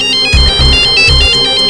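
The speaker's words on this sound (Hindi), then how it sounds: "आंचल को फोन करके पूछ लूं।" A phone ringtone plays loud and close, a repeating electronic melody with rhythmic pulses, heard alone without talk.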